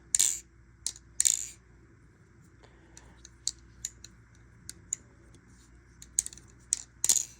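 Squid Industries Swordfish balisong being flipped, giving sharp metallic clicks and clacks in irregular bursts, some doubled, close but fairly quiet over a faint room hum, with no talking.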